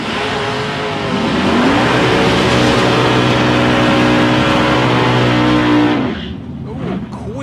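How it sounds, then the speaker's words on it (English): A Holden Commodore at a drag race is revved hard and does a tyre burnout, the loud engine roar building and holding for about five seconds before cutting off, with faint crowd and announcer noise behind. "Ooh, quick revs, big burn on the tyres there for Andrew Gay in the Commodore."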